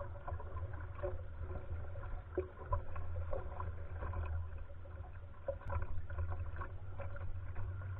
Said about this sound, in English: We paddled the smooth waters